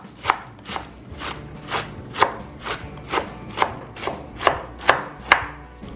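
A knife chops a big onion on a cutting board, about a dozen crisp, evenly spaced strikes in steady rhythm, close and clear with no talking.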